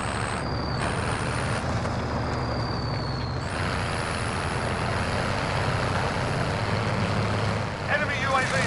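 A vehicle engine drones steadily while driving in the shooter game Warzone, a constant low rumble with air-brake-like hisses, mixed with game audio and voices.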